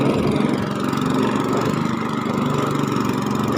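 A steady motor drone runs without a break, low and rumbling with a buzzy mid layer, sounding close and constant like a small boat engine underway on the Ubol Ratana reservoir.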